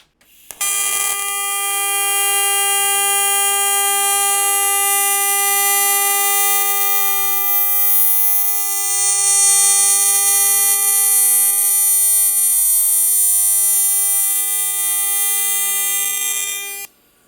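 A TIG welding arc running at a 400 Hz frequency setting gives a steady, loud, high-pitched electric buzz that holds unbroken for about sixteen seconds, with no talking.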